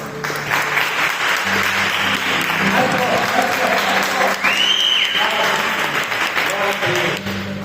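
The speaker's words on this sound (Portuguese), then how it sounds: "Vamos aplaudir o Senhor." Church congregation at an evening prayer service claps loudly and continuously, with voices and singing-like tones rising over the dense applause throughout.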